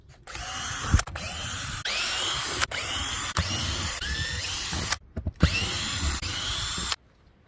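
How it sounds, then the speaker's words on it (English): A power drill backs screws out of a camp roof in repeated whirring bursts, each a few seconds long, separated by brief pauses and ratcheting clicks, loud and close with no talking. "First we're going to start by taking all these screws out."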